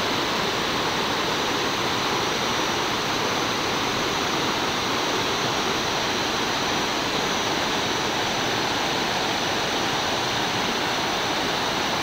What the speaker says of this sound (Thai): ก็จะมีตัวน้ำไหลลงไปด้านล่างนะครับ